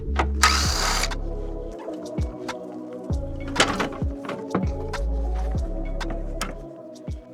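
A mechanic works on a Land Rover Freelander 2, undoing the headlight's two bolts and clips. Repeated whirring bursts from a power tool come with sharp clicks and knocks, close up and with no talking.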